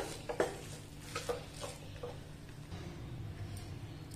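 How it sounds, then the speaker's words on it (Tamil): Sugar and salt are stirred into a mashed banana mixture in a pan, with a few soft scrapes and taps of a spoon against the pan, faint and close. "உப்பு சேர்த்து நல்லா ஒருக்கா மிக்ஸ் பண்ணிடுங்க."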